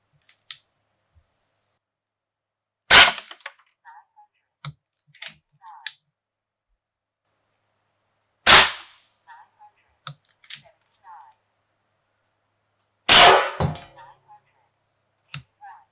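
A .30 AEA Challenger Pro air rifle fires 54 grain slugs at steel, with three sharp loud cracks spaced several seconds apart, each followed by brief clicks and handling noises.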